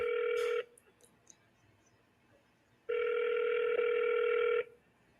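A telephone ringback tone sounds during a call transfer, two steady electronic rings separated by a pause of silence, clear and close.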